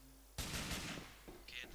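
A shotgun in Grand Theft Auto IV fires suddenly after a quiet moment, a loud close blast whose echo lingers and is followed by a few smaller bangs and impacts.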